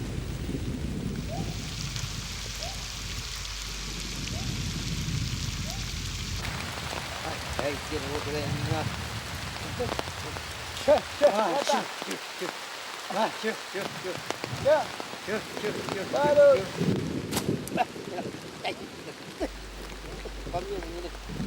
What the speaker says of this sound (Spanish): En cuestión de segundos, la tormenta vuelve a descargar con fuerza.